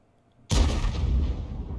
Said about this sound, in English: Is he firing the HE gun? The howitzer?